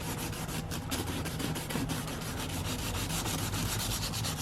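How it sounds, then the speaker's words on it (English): Fine 400 to 600 grit sandpaper scuffing the worn, discolored surface of a Mercedes-Benz seat: a steady, close, rhythmic rasping with quick back-and-forth strokes and no speech. "I'm just using some really fine sandpaper, so you could use 400, 500, or 600 grit sandpaper to just scuff off the area."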